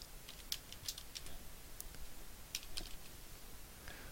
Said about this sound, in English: you can search for a place by typing it in the place bar